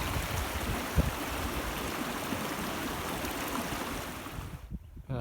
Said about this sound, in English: Picturesque Rush Creek, draining out to the Owens Valley.